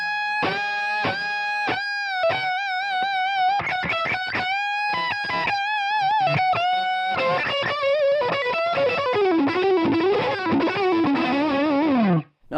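Fast distorted electric guitar solo run played up to speed with heavy alternate picking, a dense stream of quick sustained lead notes with effects, loud and continuous throughout without any talk.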